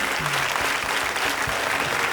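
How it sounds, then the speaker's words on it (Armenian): An audience at a comedy league show applauds throughout, a dense, loud stretch of clapping from many hands with no break. "Ուզում եմ ծափահարենք մենք թիմին։"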